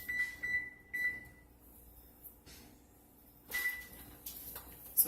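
A kitchen oven beeps while being set to preheat, giving short electronic tones in a couple of clusters, with quiet stretches in between and faint handling noise.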